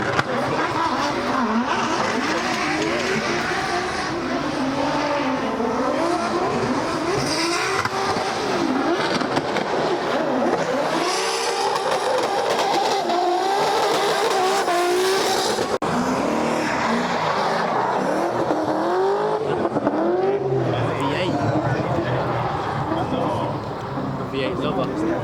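A drift car at a drift practice event revs its engine hard while its tires squeal and skid, a continuous loud roar with rising and falling pitch sweeps, with people talking over it throughout.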